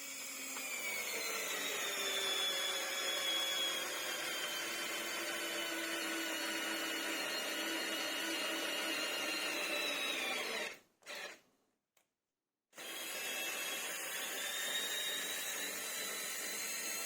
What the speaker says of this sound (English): Let's do some really simple tests and verify the power of the machine. I will start with this 5 by 50 millimeters chipboard screw.